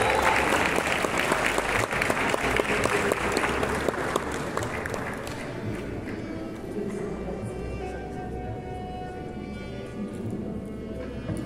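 An audience claps at an academic event, a dense burst of applause that is loud at first and then tapers gradually as the clapping thins out toward the end.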